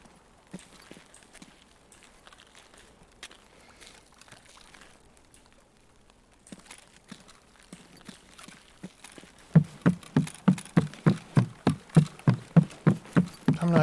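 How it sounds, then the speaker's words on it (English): Water ploop effects from a video game, while waiting to take a boat out before a raid: faint scattered plops at first, then a loud, steady run of about a dozen evenly spaced watery ploops near the end. "The ploop ploop is water sound effect."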